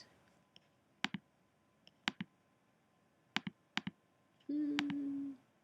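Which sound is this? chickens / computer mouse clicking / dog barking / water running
computer mouse clicking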